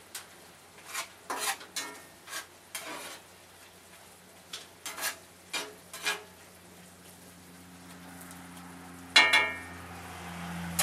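Deer fajitas in a pan, stirred with a utensil: a run of short scraping, clattering strokes at an uneven pace, close and fairly quiet, ending in a louder clatter near the end.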